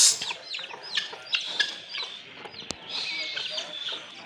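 Fancy chickens cluck and squawk in a busy, close flock, with short irregular calls overlapping one another and a sharp click partway through.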